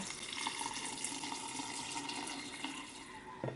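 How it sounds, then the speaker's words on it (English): Water poured from a container over cut daikon and vegetables in a bowl for Japanese tsukemono pickle, a steady splashing pour lasting throughout, close and fairly loud, with no talking. "I'm just gonna pour the water in over the vegetables until it just covers the surface of the vegetables."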